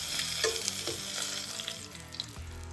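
Wild rabbit pieces pan-frying in tallow crackle and sizzle steadily up close, with a few light clinks of a utensil, and no one talks.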